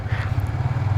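A Yamaha motorcycle engine idles steadily nearby after starting on the first kick following three days unused, a low continuous rumble with a faint even pulse and no talk.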